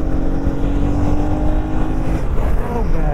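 A KTM motorcycle accelerating on a highway, its engine droning loudly and rising in pitch under heavy wind rush, recorded from the rider's seat.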